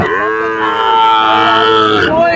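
Heifer calves at a cattle market in Panchbibi, one lowing loudly and steadily in a long drawn-out moo that runs almost the whole time, close by and clear.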